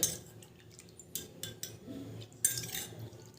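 Shampoo, coffee and water are stirred in a bowl, giving faint, soft clinks and taps of a spoon against the bowl in an uneven rhythm, with light liquid swishing between them.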